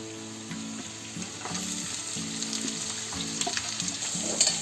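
Finely chopped onions fry with garlic and dry chillies for a brinjal bhaji, making a continuous hissing sizzle with light crackles and occasional soft stirring, close by over a faint low hum.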